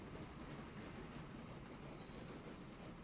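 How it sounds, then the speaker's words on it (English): Trains run in the video game Transport Fever, giving a steady rumbling rail noise with a squealing wheel tone partway through, faint and continuous with no talk. "Look at those trains."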